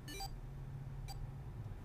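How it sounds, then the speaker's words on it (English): Two short electronic beep bursts from bracelet detonators in the video game 999, a longer chirp at the start and a briefer one about a second later, faint over a low steady hum with no talking. "The moment they did, their bracelets beeped."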